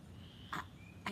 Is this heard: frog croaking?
yes